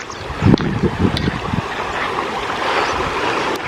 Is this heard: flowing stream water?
yes